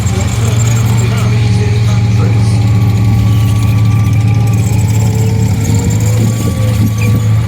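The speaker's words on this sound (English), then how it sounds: "The engine sounds a lot heavier than the small one." A heavy Cold War-era tank engine idles loudly and steadily nearby at a tank display event, a deep constant rumble with a low droning hum running throughout.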